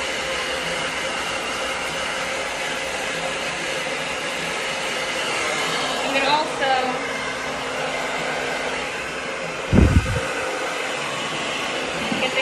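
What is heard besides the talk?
blow dryer blasting air inside a wig cap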